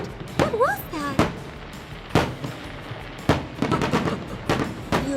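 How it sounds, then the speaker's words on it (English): Cartoon fireworks going off in a toy-themed animated scene: a handful of sharp separated bangs and pops spread across a few seconds, with whistling rising streaks between the bursts and soft voices in the gaps. "Look, Masha, the fireworks."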